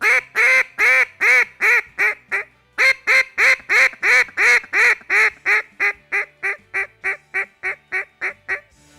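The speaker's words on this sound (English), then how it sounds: "we generally call a lot easier at these ducks and just try to bump them around the corner" A Buck Gardner duck call is blown at ducks outdoors, giving a long run of loud, close, rhythmic quacks. The quacks come in quick bursts with a short pause near the 2.5-second mark, then ease off in volume toward the end.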